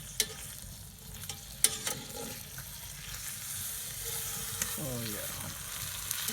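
Beef brisket sears in a Dutch oven over an off-grid cooking setup, a soft steady sizzle punctuated by a few sharp clanks and scrapes as it is turned, with a brief spoken exclamation partway through.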